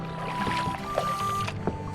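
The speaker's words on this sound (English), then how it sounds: "So Willy's our kayaking buddy now." A kayak paddle dipping and pulling through calm water, with soft splashes and drips close by during an outing with a dog aboard.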